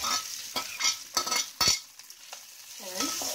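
Boiled sweet potato being stirred in a hot pan for an Indian flat bread filling, with close scraping and sizzling strokes in an uneven rhythm, loud and unaccompanied by talk.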